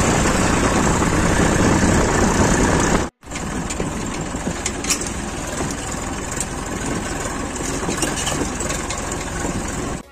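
A tractor engine runs steadily while driving to a paddy field in Balod, a loud continuous low rumble with rattling, broken by a brief dropout after about three seconds, then resuming.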